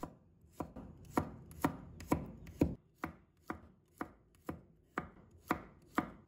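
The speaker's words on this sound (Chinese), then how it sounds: "再准备一把大蒜，把它切成片" A knife chops garlic into slices on a cutting board in a home kitchen, about a dozen crisp, evenly spaced taps standing out alone against a quiet background.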